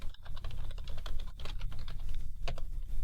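Fast continuous typing on a computer keyboard, close and fairly quiet, with a steady stream of crisp key clicks and occasional heavier keystrokes over low background noise.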